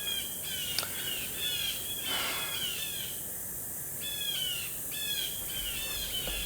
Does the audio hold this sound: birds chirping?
yes